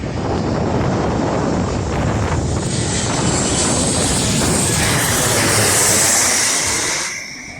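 A Jet2 passenger jet roars steadily at Birmingham Airport, a loud, continuous broadband engine rumble with wind buffeting the microphone, swelling slightly before fading at the end.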